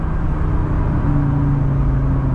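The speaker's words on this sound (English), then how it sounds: "Spinning for days! Just melting those tires!" A turbocharged, Unitronic-tuned Audi RS3 launching hard with its tires spinning, a loud, sustained engine roar with a steady droning pitch throughout, close and inside the car, no voices.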